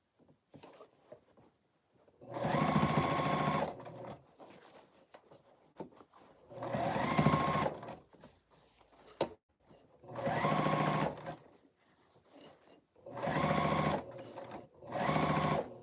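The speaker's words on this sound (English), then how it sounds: "just sew all around it." A sewing machine runs in five separate stitching bursts of one to two seconds, sewing all around a garment sleeve being prepped for the armhole, with quiet handling sounds in the pauses between runs.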